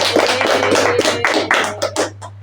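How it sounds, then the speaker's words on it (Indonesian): A small group in a classroom guidance session claps together in quick rhythmic bursts, the claps distinct and close over a low steady hum. "tepuk tangan untuk kita semua"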